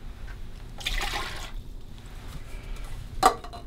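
Hydrogen peroxide and water poured into a water pick reservoir, a soft quiet splashing and trickling with a brief louder splash near the end, no talking.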